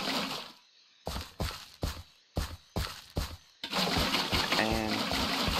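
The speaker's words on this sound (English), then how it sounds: "you're gonna want to fill up all these stairs with water." Water poured from buckets onto stairs in Minecraft, heard as a run of six short splashy bursts with gaps between them, then a longer continuous wash of water with a faint tone over it.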